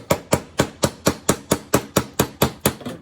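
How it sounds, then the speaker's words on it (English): Someone taps steadily on the chain sprocket of a 1978 Yamaha DT175E engine during crankcase splitting, about a dozen sharp, evenly spaced metallic knocks, close and clear with no talk. "tap on the chain sprocket, because I think that's actually what's holding things in"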